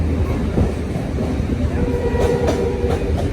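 Passenger train moving fast on a rail journey, heard from inside with loud continuous rumbling, rattling and rhythmic wheel clatter, and faint voices in the background.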